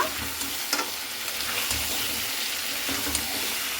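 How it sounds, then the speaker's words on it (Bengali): Mutton and onions sizzling loudly in a wok while being stirred continuously, with a constant crackling fry and soft scraping strokes of the spoon against the pan. "এখানে আমি কিন্তু এরপরে অনবরত নাড়তে থাকবো, কারণ এখানে কিন্তু নাড়তে থাকতে হবে যেন লেগে না যায় কড়াইয়ের গায়ে"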